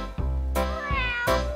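A cat meows three times in a row, each call clear, close and fairly loud, with brief gaps between them and no talking.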